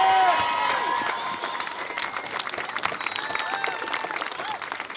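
Sustained applause and cheering from a rally crowd at Sydney University, dense clapping throughout with whoops and shouts rising over it, loud and close.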